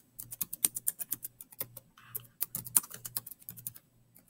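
Typing on a computer keyboard to enter text, a steady run of crisp, close key clicks in quick irregular bursts with brief pauses, no voices.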